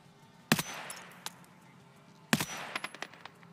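Gunfire in the video game Escape from Tarkov: two sharp, loud shots about two seconds apart, each trailed by short clicks and metallic rattles, with no talk over them.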